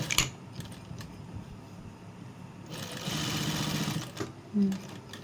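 A sewing machine stitches hooks onto fabric, its motor running in a steady whirring burst that grows louder midway, with a few clicks and a short knock near the end.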